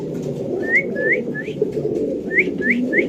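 Pigeons for sale at a Bangladeshi bird market give repeated rising whistled calls in two short bursts over a dense, murmuring background of crowd and flock noise.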